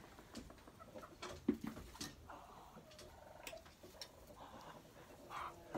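Chickens roosting on nesting boxes in a coop at night give soft, scattered clucks and short murmurs, faint and intermittent against low background noise.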